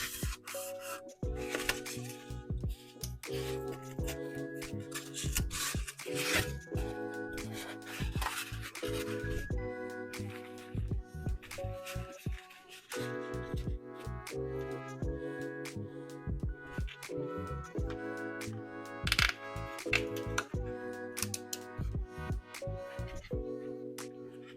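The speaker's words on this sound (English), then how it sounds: "I don't have very long zip ties, so I'm going to use 2 of these." Zip ties ratchet tight in a series of close, rapid plastic zips and rasps, repeated in bursts as two short ties are fastened while packing snakes for shipping.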